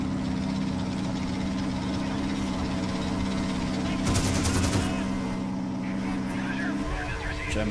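Gunfire in the war game Men of War: Battleaxe crackles amid a dense battle mix with engine rumble and shouted voices, with a burst of rapid shots standing out midway.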